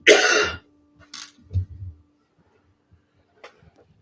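A single throaty cough, close and fairly loud, followed by a few soft clicks and quiet rustles.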